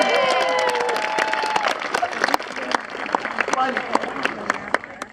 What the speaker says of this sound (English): That's your cue, audience. Give her a hand.